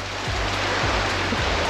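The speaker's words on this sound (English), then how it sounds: "The old afternoon squall," Afternoon squall rain on the coast near Tuross Head, a loud, dense, continuous hiss of downpour with a few dull thumps underneath, close and unbroken.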